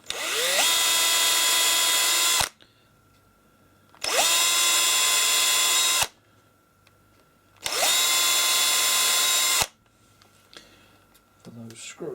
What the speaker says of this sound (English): We've got a 1/16 drill, and it's a case of just making